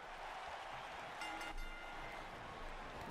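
A steady, dense roar of a virtual arena crowd from a WWE 2K wrestling video game, swelling slightly midway with a brief cheer-like burst.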